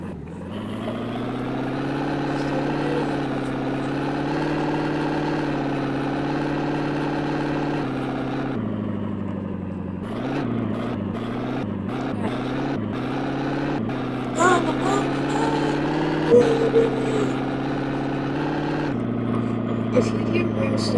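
A Ford Bronco truck engine in a video game runs steadily as a loud, continuous drone, idling evenly before shifting into uneven revving with a few short bursts near the end.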